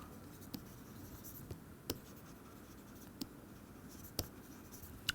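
Faint scratchy strokes of writing on a board during a physics lecture, with a few soft isolated taps and scrapes spread over several seconds against a quiet room hum.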